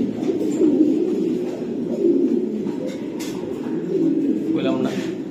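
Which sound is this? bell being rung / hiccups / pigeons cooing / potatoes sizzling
pigeons cooing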